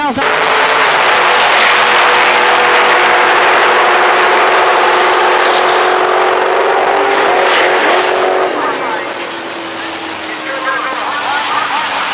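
Drag race cars launching side by side at Cordova Dragway, including a 1984 Mercury wagon with a 351 Windsor; loud, continuous engine roar at close range that sweeps down in pitch and eases off near the end, with an announcer talking over it.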